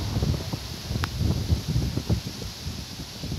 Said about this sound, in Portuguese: Olha o vento batendo aí na vegetação.